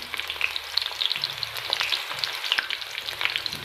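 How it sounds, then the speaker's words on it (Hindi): Onions browning in a pan for aloo matar, a steady dense sizzle with crackling pops throughout, close and fairly loud, no talking. "जब तक मेरी प्याज ब्राउन हो रही होगी"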